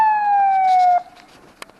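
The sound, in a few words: ambulance siren passing in traffic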